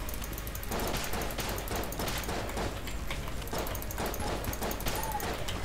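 Steady rapid gunfire in the bullet-hell game Enter the Gungeon, a dense stream of shots continuing without pause at close range.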